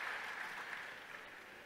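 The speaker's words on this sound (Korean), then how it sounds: "우리 성도 여러분이 더 열렬히 박수를 해주셨습니다." Church congregation applauding during a Korean sermon, a steady wash of clapping that holds evenly across the short span and tapers slightly at the end, with no voices on top.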